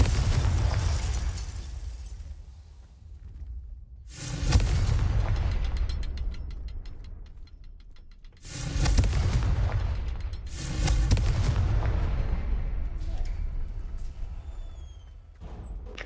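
Booming Confringo blasting-curse explosions in Hogwarts Legacy, several heavy, loud blasts with long rumbling tails layered over one another.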